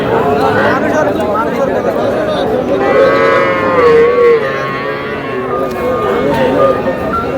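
Bull calves mooing at a busy cattle market in Bangladesh, several loud, drawn-out calls rising over a constant murmur of crowd chatter and nearby voices.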